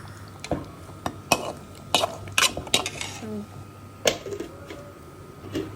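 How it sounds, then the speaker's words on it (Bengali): A metal spoon clinks and scrapes against a pan while goat meat curry for Qurbani is stirred, making irregular sharp knocks over a soft background of cooking. "এখানে আমি প্রায় 6 মিনিট নাড়াচাড়া করলাম"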